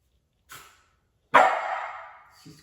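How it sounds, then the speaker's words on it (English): Two dog barks: a short, softer yip, then after a pause a loud, sharp bark that trails off, with a faint sound at the very end. "she's offering me a bark or a speak"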